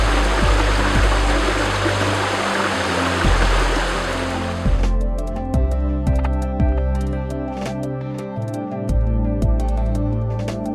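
A stream runs beside the entrance of Ayvaini cave, its steady water rush loud and continuous for the first half, then thinning to a softer flow under a sustained musical tone with low plucked notes.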